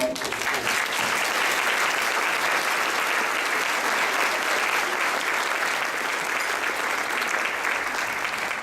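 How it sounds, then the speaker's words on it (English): A school assembly audience applauds at a student inspiration event, a steady, loud wall of clapping from a large crowd that holds evenly from start to finish. "So please give them a huge round of applause for coming up to the stage."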